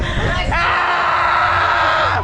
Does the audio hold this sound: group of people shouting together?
yes